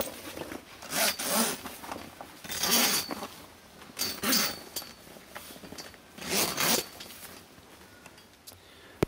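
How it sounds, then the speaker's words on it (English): A zipper on an awning canopy is pulled in several separate long rasping strokes, close up and fairly loud, with short pauses between them. "it's just a matter of sliding the end into the zipper and pulling across"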